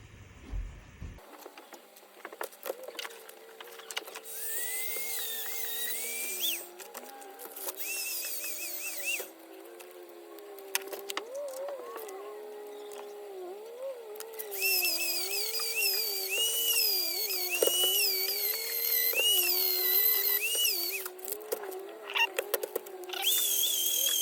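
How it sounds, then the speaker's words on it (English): A Dremel rotary tool grinds on a Schmidt Thompson blast media metering valve, a high whining motor whose pitch wavers and shifts as it bites the metal, sustained and close for over twenty seconds with brief pauses and no talk. "let's try the Dremel"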